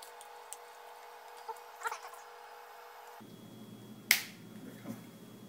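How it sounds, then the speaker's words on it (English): A lamp part slides on and clicks into place during rewiring, a single sharp snap standing out over a faint background of quiet handling noise. "This is going to slide up onto here, and you'll hear it kind of snap into place."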